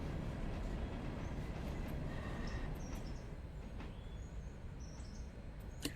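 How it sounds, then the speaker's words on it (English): A train rolls slowly into a station in the railway game Railroader, a low rumbling wagon noise fading gently as it eases to a stop, with faint squeaks and chirps on top and no talk. "Yes, I'm gently bringing the train in, Zeus."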